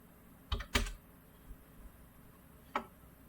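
Keys clatter on a computer keyboard in a few short bursts: a quick double tap cluster, then a pause and a single later keystroke, close and fairly quiet.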